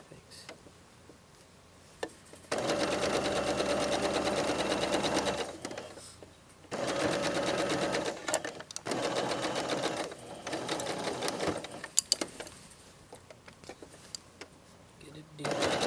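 A sewing machine stitches a jacket hem in several steady motorized bursts separated by short pauses, with people talking quietly nearby.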